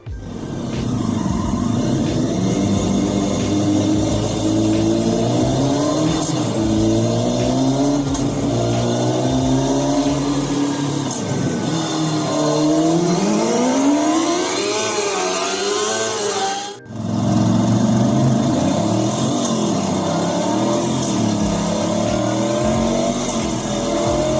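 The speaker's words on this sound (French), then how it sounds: "Cette moto aurait la particularité de pouvoir émuler un moteur thermique" An electric motorcycle emulating a combustion engine roars, revving up and down in waves of rising and falling pitch, loud and close, with a brief dip as if shifting gears.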